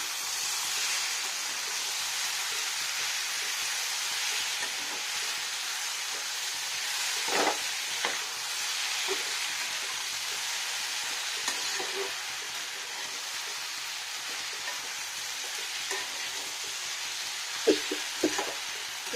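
Boneless chicken with mixed vegetables and tomato sizzles steadily while being stir-fried in a pan, a continuous bright hiss broken by occasional scrapes and clinks of a spatula, with no talking.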